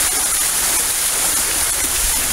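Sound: indoor waterfall in a tropical conservatory

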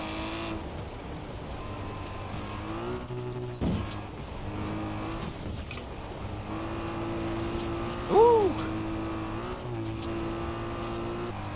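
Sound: racing car engine in the video game Forza Horizon 4

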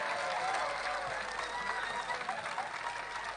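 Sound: audience applause

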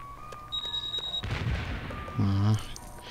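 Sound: explosions in a video game

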